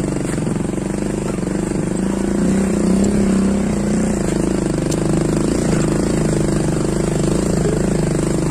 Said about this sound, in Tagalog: Puro motor ang nadaan dito.